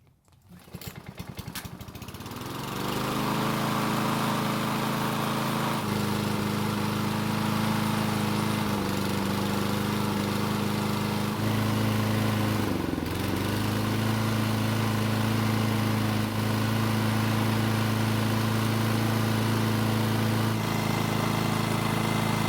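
A Toro lawn mower's small engine sputters, catches and then runs at a steady drone, with a brief stumble midway before settling back.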